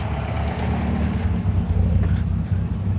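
An MG RV8 classic car sits at an outdoor classic car show, its engine giving a steady, fairly loud low rumble throughout with no talking.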